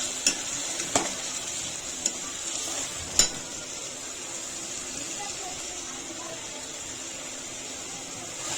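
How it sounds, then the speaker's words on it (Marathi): Ground masala paste fries in oil with tomato puree for chicken sukka, a soft steady sizzling hiss with several sharp utensil taps in the first few seconds. "आता हे तेल सुटेपर्यंत त्याला फ्राय होऊन द्यायचं आहे"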